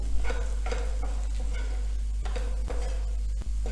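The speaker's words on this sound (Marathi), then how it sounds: "थोडी कसुरी मेथी घालायची आहे सगळ्याचं प्रमाण मी डिस्क्रिप्शन बॉक्समध्ये देते तुम्हाला आणि एकसारखं हलवून घ्यायचं आहे" Jeera aloo stirred in a pan with kasuri methi, spatula strokes scraping in a steady rhythm over a gentle sizzle, with a low hum underneath and a few sharp knocks near the end.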